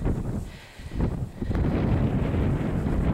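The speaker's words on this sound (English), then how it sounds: "It's nice out, but it's a little windy." Wind gusts outdoors in woods, buffeting the microphone in a loud, low rumbling roar that dips briefly and then returns strongly and steadily, with no talking.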